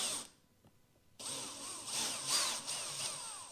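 A power drill bores holes into the trunk lid of a 2019 Toyota Corolla XSE for an OEM spoiler, a close whining grind that starts after a brief pause and runs steadily.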